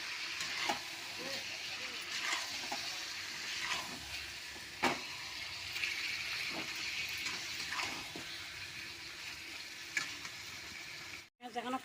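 Spiced chicken frying in a pan with a spoonful each of coriander powder and other spices, a steady close sizzle broken by repeated scraping stirs, with faint talk in the background.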